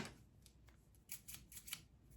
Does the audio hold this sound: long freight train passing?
no